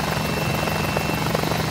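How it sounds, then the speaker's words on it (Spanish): A Mini 500 helicopter cruises at about 100 knots between Ceuta and Algeciras, heard from inside as a loud, steady rotor throb and engine drone with rapid rhythmic chopping. "este helicóptero vamos ahora manteniendo 100 nudos por encima, serían unos 180 km por hora."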